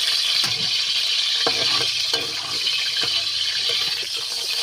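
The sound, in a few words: cooking oil added to adobo frying in a pan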